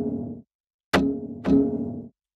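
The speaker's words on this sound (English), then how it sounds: "By itself, the zither sounds like this." A single low zither string is plucked three times, each pluck a close, resonant twang that rings and fades, with short silences between the notes.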